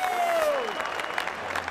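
A K1 kickboxing crowd rises to its feet cheering and applauding after a dramatic 2010 fight, a dense roar of clapping and shouts under an excited commentator's voice.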